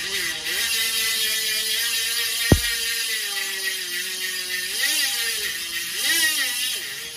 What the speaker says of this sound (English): we changed it to a 54 tooth ratchet system for the rear hub